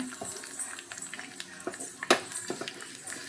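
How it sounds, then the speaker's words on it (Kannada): Curry leaves stirred and fried in a pan for Mangalore-style satekai sambar: a soft sizzle broken by repeated ladle scrapes and clinks, one sharp knock, with a voice speaking now and then. "ಈ ರೀತಿಯಾಗಿ ಚೆನ್ನಾಗಿ ಫ್ರೈ ಆಗ್ತದೆ"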